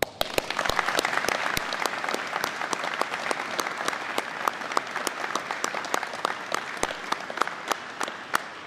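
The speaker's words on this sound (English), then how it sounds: "We all owe you a great round of applause." Sustained audience applause at a military change of command ceremony for the 96th Troop Command, steady and moderately distant, with sharp individual claps standing out over a continuous wash of hands and no voices above it.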